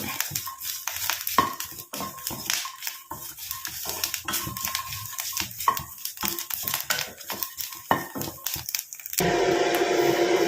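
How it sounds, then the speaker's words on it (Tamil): Dry coconut is dry-roasted in a pan until it turns black, heard as close, irregular scraping, rustling and stirring clicks with no talk, ending in a steadier hiss. "ஏன்னா தேங்காய் நல்லா பிளாக்காக மாறணும், அது வரைக்கும் நம்ம இதை வறுத்துக்கலாம்."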